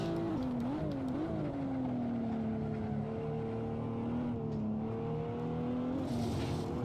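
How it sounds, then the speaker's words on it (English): A Toyota Supra TA90 in the racing game Assetto Corsa at Buttonwillow holds a steady, droning engine note in third gear as the wheels spin, rising and dipping slightly and ending with a short hiss. "Third gear. Just gotta watch the wheel spin."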